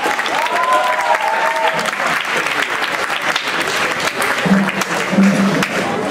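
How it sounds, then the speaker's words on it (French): An audience at a student mathematics conference applauds a presenting group, a loud, full, sustained round of clapping with a few faint tones and murmurs mixed in. "on donne encore une bonne main d'applaudissement"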